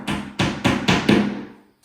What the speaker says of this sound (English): I'm using this screwdriver, exactly same size of an anchor and a hammer.